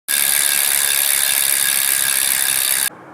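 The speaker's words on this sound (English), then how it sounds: "And the free hub also sounds pretty good." A carbon bicycle wheel's freehub ratchet buzzes in a loud, steady, fast clicking whir close up for nearly three seconds, then stops abruptly.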